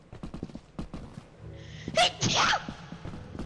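A person sneezes once, loudly and close, a sharp burst after a stretch of quiet tapping and clicking.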